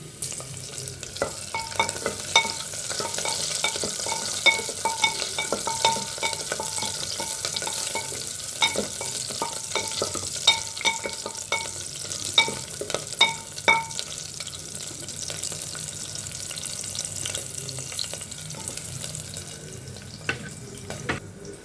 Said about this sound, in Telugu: మగ్గిన తర్వాత పచ్చిమిర్చి యాడ్ చేసుకున్నాం.